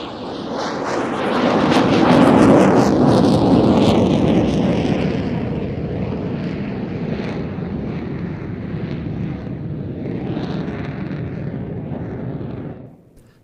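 F-16 fighter jet flying an air display with smoke winders, a loud broad jet roar that builds to a peak, holds steady as it passes, then fades away at the end, with no voices.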